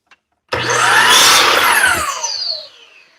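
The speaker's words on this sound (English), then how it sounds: "drill the pilot holes" A power drill bores pilot holes into a piece of maple, a loud, close whine and grinding that starts abruptly, holds steady for about two seconds, then winds down.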